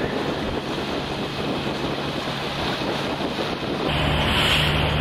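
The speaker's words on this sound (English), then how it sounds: "wind's starting to kick up" Strong wind and choppy waves on the Alligator River, heard from a small trawler as a steady, loud roar of wind buffeting the microphone over rushing water, with no one speaking.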